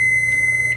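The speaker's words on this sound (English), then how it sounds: "Timer's on!" A kitchen timer gives a steady, high-pitched electronic beep lasting under a second, fairly loud and close in a home kitchen while baking.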